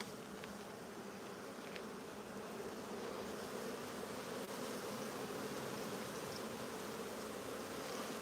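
Honeybees buzzing around an open hive with brood frames exposed, a dense, steady, close swarm drone with no pauses and no talk.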